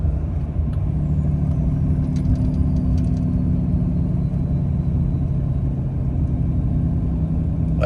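A Ram Cummins 6.7L diesel truck in tow haul mode slowing on its turbo exhaust brake, a steady low droning rumble that holds evenly throughout, with a few faint clicks above it and no talking.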